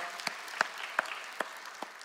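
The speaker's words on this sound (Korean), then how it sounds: "하나님께 영광과 감사의 박수 올려드립니다." At an early-morning church worship service, a handful of sharp, distinct hand claps land in a steady rhythm, about two per second, over a soft bed of lighter clapping.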